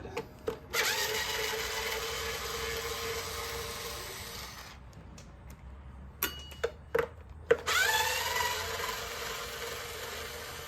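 Bolts being removed from the housing of a Husqvarna 125B leaf blower with a power driver, heard as a long close whirring drone that stops, then a few sharp clicks, then another steady whir, with no talk.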